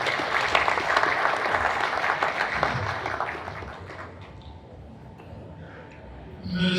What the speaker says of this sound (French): Je vous invite à applaudir pour vous-même.